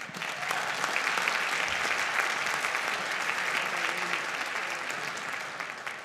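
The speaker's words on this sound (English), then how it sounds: "How about a round of applause for our students?" A school audience at an elementary winter concert gives a sustained round of applause for the students, a steady wash of many hands clapping at moderate volume with a few voices mixed in.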